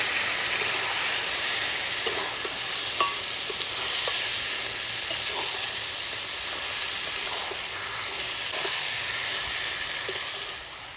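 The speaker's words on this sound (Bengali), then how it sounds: "এবার আমি মাংসগুলো ঢেলে দেবো এর মধ্যে।" Chicken sizzling and frying in a pan of cooked-down spiced masala with tomato, a constant loud hiss with occasional soft stirring knocks, close by with no talking.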